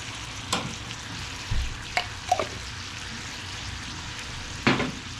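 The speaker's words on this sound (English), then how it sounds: "We're just going to stir it. The butter and the garlic." Butter and garlic sizzle steadily in a pan with a soft frying hiss, broken by a few scraping knocks as a utensil stirs them and taps the pan edge.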